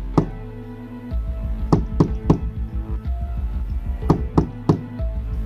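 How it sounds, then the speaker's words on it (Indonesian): Three sharp knocks on the door of a quiet house at night, repeated in a second burst after a pause, loud and close with no voices. "Setelah 3 kali ketukan pintu"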